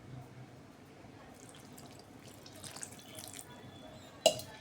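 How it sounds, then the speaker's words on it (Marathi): Water trickles and splashes into a bowl of jowar flour batter, a soft continuous pour with small splashes and one sharp clink near the end, no talk. "छान पीठ आता पाणी अजून वापरून सरसरीत करून घेऊया आपण."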